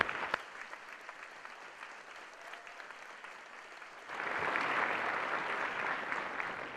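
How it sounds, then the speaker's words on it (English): An audience at a college address claps, starting faint and scattered, then swelling into fuller, louder applause after a few seconds and holding steady to the end. "I'd like to give them a round of applause also"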